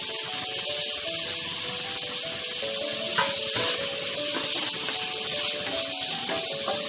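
Vegetable cutlet mixture with carrot, beetroot and peas lightly frying in a pan, giving a steady, even sizzling hiss close by that carries on throughout with small shifts and soft clinks from stirring.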